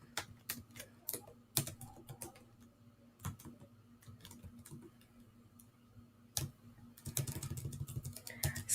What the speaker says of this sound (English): So you can just type a question here.